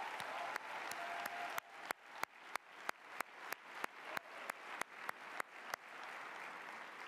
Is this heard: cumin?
no